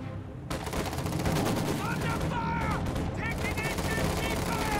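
Machine-gun and rifle fire rattles continuously on a Company of Heroes 2 battlefield, dense overlapping bursts with booms beneath, under someone talking.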